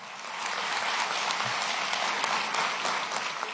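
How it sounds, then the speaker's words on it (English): An audience at a police-community relations awards ceremony applauds its winners and nominees, steady dense clapping that fills the room evenly from start to finish. "Can we have a final round of applause for all of our winners this year and everyone who was nominated as well?"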